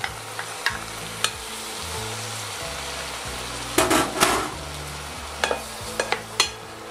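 Shallots gently sweating in a pan, a steady soft sizzle with occasional stirring scrapes and clinks and a louder burst of frying midway, close and alone without talk.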